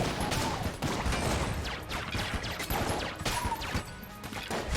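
Rapid, dense bursts of explosive weapon fire from the Little Bomber in the game Enter the Gungeon, loud and continuous with crashing impacts throughout.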